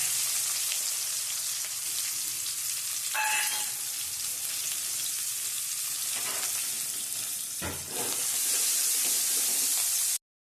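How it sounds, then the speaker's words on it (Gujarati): Onions frying in oil in a pan for dosa filling, a steady close sizzle running the full length with a few brief stirring scrapes and a louder hiss near the end. "ડુંગળી છે ને જો હવે થોડી તળાવા લાગી ગઈ છે."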